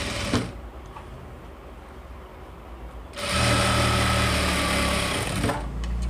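A sewing machine stitches fabric at a tailoring workshop, with a short quiet pause before a loud, steady whirring run of stitching that lasts a few seconds, then slows; nobody talks.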